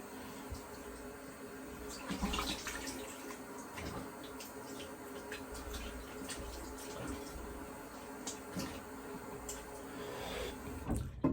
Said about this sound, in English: I'm going to do a quick rinse.